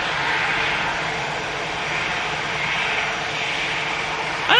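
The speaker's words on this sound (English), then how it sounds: "Another couple of Virgin Atlantics due in." A Virgin Atlantic jet airliner comes in to land, its engines making a loud, continuous roar. The broad rushing sound holds steady throughout, with no voices over it.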